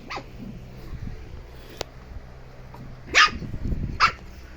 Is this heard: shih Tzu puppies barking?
yes